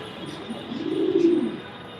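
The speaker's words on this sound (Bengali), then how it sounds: "ওই জন্য ডাকা করতেছে কবুতরটা" A single soft, low coo from an injured pigeon swells up and fades over about a second, close by, with steady background noise and no talking.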